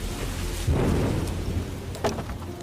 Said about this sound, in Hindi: बारिश कई घंटों से हो रही है।